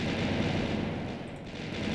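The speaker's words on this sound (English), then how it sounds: "I can only have one TNT explosion running at a time?" A TNT explosion in the Minetest video game, heard as a dense, continuous crackling rumble of blasts, loud and sustained, with no voices.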